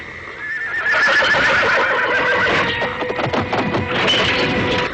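A horse neighs and shifts about in a jungle cartoon scene, repeated whinnies over clattering hoof and movement noises, loud and close throughout.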